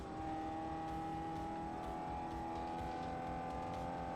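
Race cars in Forza Motorsport 4, a sustained engine whine with a steady pitch and a dense, even roar underneath, loud and continuous throughout.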